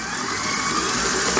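A KitchenAid stand mixer runs steadily while beating cream cheese pound cake batter, giving a continuous close motor whir with no breaks and no talking.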